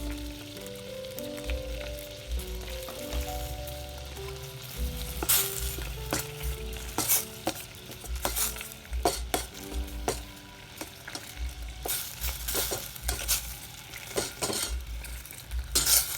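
Thai curry paste mixed with shrimp paste and a little fermented fish sauce fries in a pan for a beef curry with cassia leaves and pork cracklings, giving a continuous sizzle. Loud, irregular scrapes and clanks of a utensil stirring against the pan cut through it, close up with no speech.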